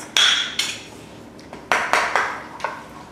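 Two eggs beaten in a bowl make a series of about seven sharp, bright clinks of a utensil against the bowl at an irregular tapping rhythm, close and fairly loud.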